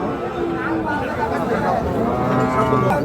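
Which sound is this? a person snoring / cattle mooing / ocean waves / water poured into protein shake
cattle mooing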